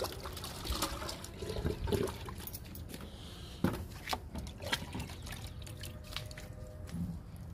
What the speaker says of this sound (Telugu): కాకరపాదుకి లిక్విడ్ ఇస్తున్నా.